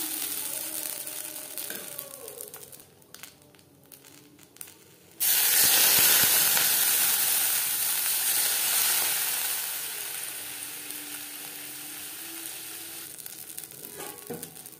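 Rice batter for chitoi pitha cooks in a covered pan, giving a steady steamy sizzle and hiss that jumps louder partway through and then eases to a softer simmer, with no voices.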